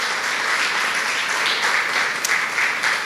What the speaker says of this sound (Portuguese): Você pode aplaudir a palavra do Senhor nesta noite?